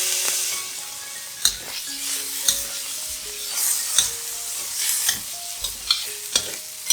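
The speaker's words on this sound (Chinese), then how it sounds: "放入番茄炒一炒。" Tomatoes are stir-fried in a wok, giving a steady sizzle broken by sharp, repeated spatula scrapes and clanks against the metal about once a second, close up.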